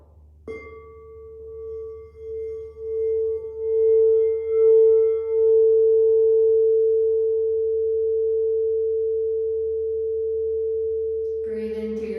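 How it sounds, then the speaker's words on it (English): A meditation sound bowl struck once, ringing out as a long steady tone that swells and wavers before settling into a sustained hum, close and clear, with a brief different sound at the very end and no talk. "we're going to get started with just a little bit of the sound bowl"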